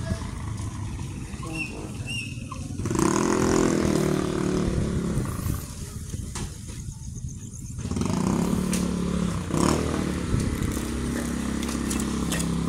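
A motorbike rides along on the way to work, its engine a steady close drone that swells and eases as the bike moves through traffic, with wind rumble and a voice talking over it at times.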